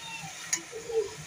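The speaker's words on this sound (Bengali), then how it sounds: "এখন আমি উল্টে পাল্টে দেব, হালকা করে উল্টে পাল্টে দেব যেন মাছগুলো ভেঙে না যায়।" Gentle stirring of kural fish with water spinach in a pan: a single soft scrape around the midpoint, then a low sizzle that swells briefly near the end, quiet and close.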